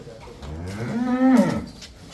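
A Jersey dairy cow on a farm lets out a single long, loud moo close by, rising and falling over about a second, with only faint background noise around it.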